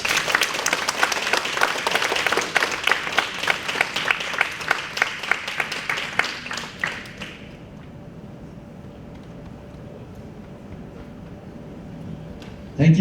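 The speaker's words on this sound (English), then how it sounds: "We give Dr. Plant a big round of applause" An audience applauds after a speech, a loud sustained round of clapping that fades out midway, leaving a quiet room with a faint hum.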